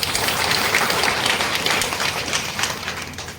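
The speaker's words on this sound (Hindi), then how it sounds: "तो उनके लिए एक बार आप लोग जोरदार ताली बजा दीजिए।" Loud, continuous audience applause at a gathering, a thick, even roar of many hands clapping throughout.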